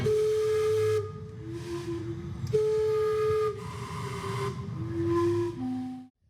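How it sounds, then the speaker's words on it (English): The Gastown steam clock in Vancouver sounding its steam whistles, several sustained hooting tones at shifting pitches over a hissing steam rush, loud and close, ending abruptly. "There's a famous steam clock there."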